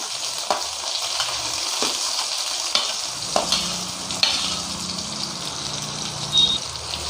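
Finely chopped onions with green chillies sizzling steadily in a hot pan for a potato and peas kurma, a bright continuous hiss broken by a few sharp spatula scrapes and knocks of stirring, close and alone with no talk.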